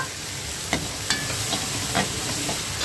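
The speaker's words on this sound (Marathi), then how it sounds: "हे बघा आता हे कच्चं वाटण भाजून झालं" Raw ground masala paste for egg curry roasting in a pan, a steady low sizzle with a few sharp stirring scrapes and clinks of the spatula, close and moderately loud, no voices.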